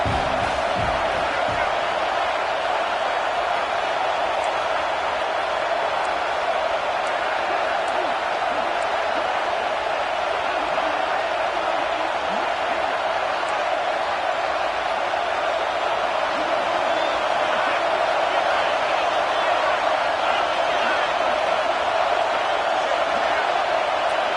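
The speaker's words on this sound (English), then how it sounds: "Third down, red zone play. Crowd alive." A packed stadium crowd at a college football game between Kansas State and Washington roars steadily during a third-down red zone play, a loud, continuous wall of cheering and whooping that never lets up.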